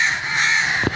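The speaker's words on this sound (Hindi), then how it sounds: "सब तरफ कौवे ही कौवे बैठे हुए हैं और शोर मचा रहे हैं" A crowd of crows caws around a kite in a steady, dense, noisy chorus, with a short harsher burst near the end.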